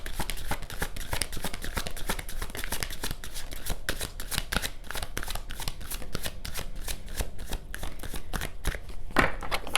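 Oracle cards are shuffled continuously, a rapid, even run of crisp papery snaps and riffles heard close up and alone.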